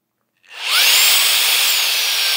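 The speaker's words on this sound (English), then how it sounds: "So we got suction on one end and the blower on the other." A HOTO two-in-one air duster and vacuum blower switches on from silence, its motor whining up within a fraction of a second into a loud, steady high-pitched rush of air that holds to the end.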